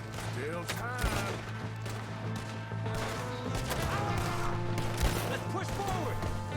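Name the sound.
gunfire in the video game Red Dead Redemption 2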